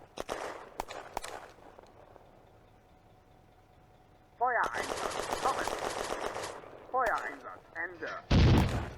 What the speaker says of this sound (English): Gerlach beats a hasty retreat, pursued by bullets from Soviet infantry in the woods to the northeast.